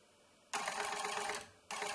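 A homemade CNC machine driven by a geared drive salvaged from an old printer with a 12V motor whirs loudly in a steady burst, stops briefly, then starts again, close and alone.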